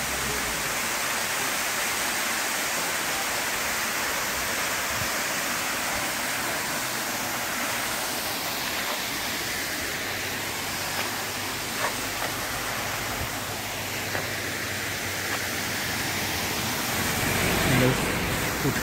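Waterfall beside the road to Kodaikanal, dropping from a high hilltop, gives a steady broadband rush of falling water that stays even and continuous throughout, with faint traffic-like rumble underneath and no speech.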